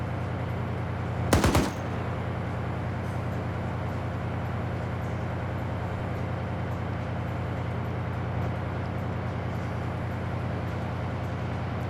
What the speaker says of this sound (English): Shay should go prone and shoot at Ilvanek's feet